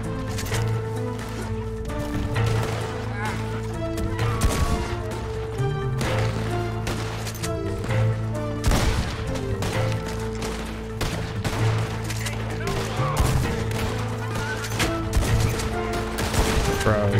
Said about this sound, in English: just hearing that audio for the shotgun is so beautiful